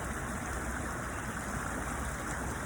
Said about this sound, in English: through the sound of the flowing water